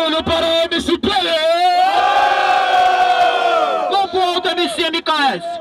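A loud crowd at a São Gonçalo rap battle roars and shouts together, a sustained mass of voices swelling in the middle, with individual yells breaking through at the start and end.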